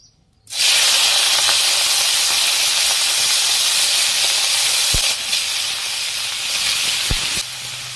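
Boiled and cleaned freshwater snails go into hot oil for frying, setting off a sudden loud, close sizzle that holds steady for several seconds, with a few sharp clicks.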